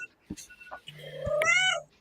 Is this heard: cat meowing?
yes